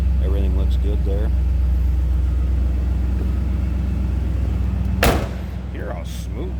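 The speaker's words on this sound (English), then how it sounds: "Hear how smooth this thing runs." A 1986 Chevrolet Camaro IROC-Z28 with a 305 engine idles smoothly with a steady, loud low rumble. A brief voice comes near the start, and a sharp thump sounds near the end.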